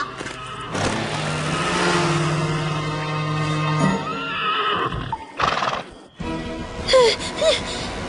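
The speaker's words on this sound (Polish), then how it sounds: "To rżenie bezgłowego konia!" Long, loud whinnying horse in a My Little Pony cartoon, followed by a few short bursts of clopping and snorting noise and a brief higher cry near the end.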